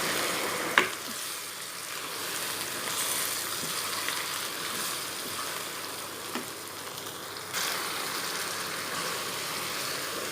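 Chicken tikka and okra with salt and chili fry on high heat, giving a steady, fairly quiet sizzle with a few soft clinks of stirring.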